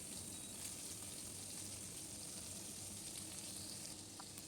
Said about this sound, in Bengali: এই মাছগুলোও আমি উল্টে পাল্টে ভেজে নিলাম